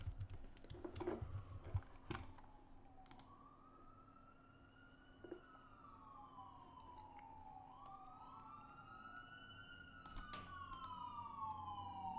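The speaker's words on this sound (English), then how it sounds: "Can you hear the sirens?" Sirens wail far off, rising and falling in long sweeping tones, with occasional clicks and taps nearby.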